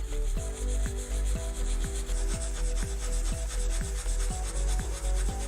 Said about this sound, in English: we are going to polish the surface using the 220 grit sandpaper. Take the sandpaper go in small tiny circles